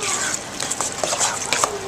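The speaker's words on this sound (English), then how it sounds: "So I'm going to go ahead and stir this some." A spoon scrapes and clinks through chicken pot pie filling in a pot, close-up soft stirring with light metallic taps and a faint sizzle underneath.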